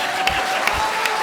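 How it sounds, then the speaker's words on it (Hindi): A studio audience at a comedy show breaks into a short, dense burst of applause, a continuous wash of many hands clapping. "जोरदार तालियां।"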